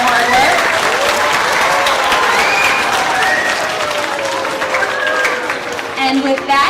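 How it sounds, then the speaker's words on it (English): Audience applause at an elementary school winter concert, honoring a junior chorus, a steady dense wash of clapping from a crowd with voices mixed in, continuous and close throughout. "Can we give them one more round of applause for their hard work?"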